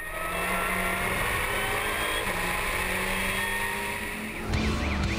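Lamera Cup race car at the Navarra circuit, a loud sustained engine roar with tire rush as it powers down the pit straight, the pitch shifting near the end as gears change.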